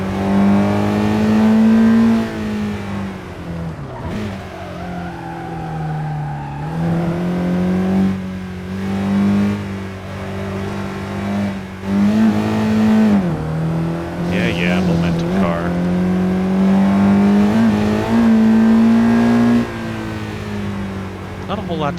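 A 2026 Honda Prelude engine and exhaust rev on a California highway, a loud droning tone rising and dipping through gear changes with steady road noise and brief spoken remarks over it.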